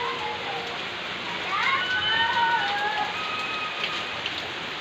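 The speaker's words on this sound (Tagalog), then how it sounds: "Si tuta ko, si Burnok, nabasa ng ulan, bobo." Steady rain patters on surfaces outdoors as a constant wash, with a faint siren-like wail rising and falling in the background midway.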